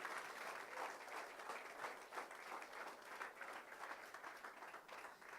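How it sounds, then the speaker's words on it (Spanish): A church congregation claps loudly for the Lord during a sermon, a steady, even wash of many hands sounding somewhat distant and continuing throughout without speech. "¿Cuántos aplauden fuerte al Señor?"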